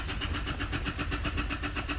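Isuzu D-Max engine cranking without starting, a steady rhythmic starter churn with regular pulses that never catch, close and continuous, no talk.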